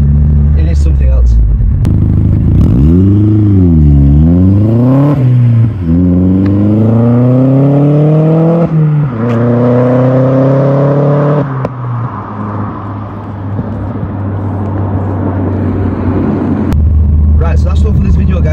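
A Stage 2 Vauxhall Astra VXR fitted with a pipe-across induction kit, revving loud and close in repeated rising and falling sweeps, then settling into a rough idle.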